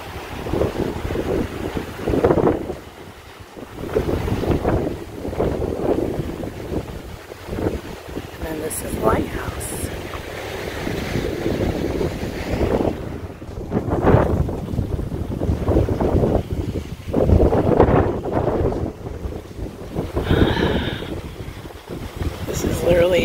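Strong wind buffets the microphone on a boat trip over open water, a continuous rough roar with gusty swells and faint wave wash underneath.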